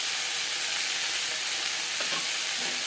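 Ginger paste and green chilli paste fry with tender bitter gourd in a pan, making a steady, loud hiss of sizzling oil with a few faint clinks of stirring and no talking.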